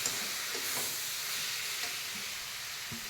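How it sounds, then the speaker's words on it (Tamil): Coriander and turmeric powder masala sautéing in a pan for cauliflower gravy, giving a steady close sizzle with occasional stirring scrapes, no voices. "மல்லிப்பொடி, மஞ்சப்பொடி, இது எல்லாத்தையும் சேர்த்து நல்லா அதையும் வதக்கி விடணும்."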